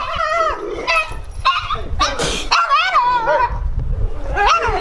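Pitbull dogs barking and yipping at a dog park, a run of loud, close barks and whines in quick bursts through the clip, with some voices in the background.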